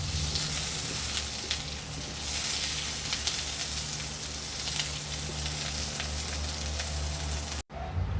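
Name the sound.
hotdog frying in a pan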